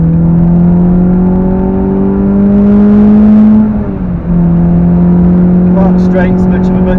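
Renault Clio 182 engine pulling hard around a wet Cadwell Park circuit, a steady loud in-cabin drone rising in pitch, easing briefly mid-lap, then climbing again under a driving instructor's voice.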